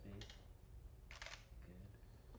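A camera shutter fires on a slow shutter speed, with two separate broadband clicks roughly a second apart, the second louder, set over a low room rumble with people talking in the background.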